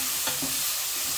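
Vegetables with baby corn, pepper and prawns sizzle steadily in a hot pan, a close, continuous hiss broken by a few soft stirring scrapes.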